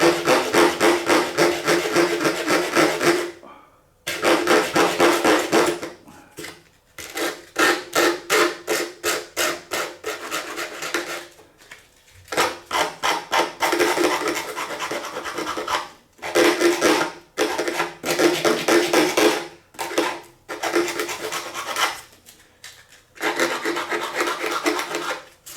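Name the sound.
sanding a guitar body with 80 grit sandpaper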